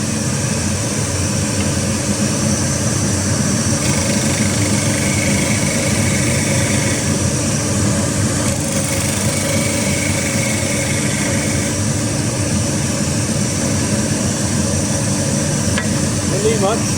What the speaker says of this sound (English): Tractor on